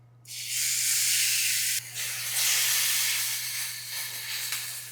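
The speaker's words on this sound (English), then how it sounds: "So I'm going to sear the pork on all sides." Pork searing in a dry, hot skillet over medium-high heat gives a loud, steady hiss that starts suddenly, dips briefly, then carries on unbroken with a low hum underneath.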